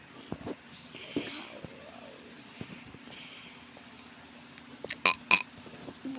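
A loud burp erupts near the end during casual Filipino banter among cousins, preceded by soft background chatter and a few clicks.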